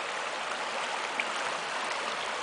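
The Arieș river flows through mountain country, a loud, steady broadband rush of moving water without pause or voices.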